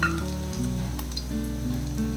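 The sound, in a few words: egg manchurian frying in oil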